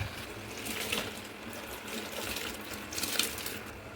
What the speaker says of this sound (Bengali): এবার আমি সব চালগুলো ভাতের মধ্যে দিয়ে নেবো।